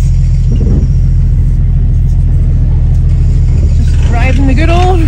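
An off-road vehicle driving a rough trail, its engine giving a loud, close, constant low rumble with some knocking, and a few short vocal sounds rising over it near the end.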